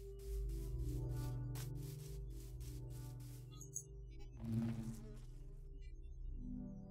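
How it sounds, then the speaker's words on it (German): Bees buzzing around a beehive in the video game Minecraft: a steady, close, droning hum with wavering pitch, layered over soft ambient game sounds and a few small clicks. "Da haben wir einen Bienenstock."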